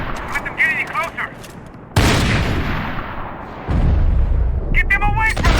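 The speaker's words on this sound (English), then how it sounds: "Shoot, Max, shoot" Gunfire from the shooter video game Max Payne 3 comes as a heavy sustained burst of loud shots, with in-game voices heard before and after.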